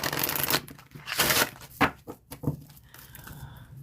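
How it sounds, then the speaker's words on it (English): Close, crisp fan shuffling of tarot cards in several quick bursts, with papery crinkles and short pauses between them. "We'll just do one fan shuffle"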